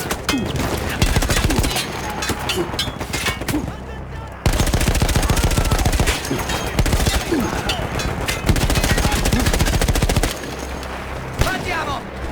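A mounted machine gun fires in the World War I shooter game Battlefield 1, loud and close, in long rapid-fire bursts of dense, rattling shots that run almost continuously with only short breaks.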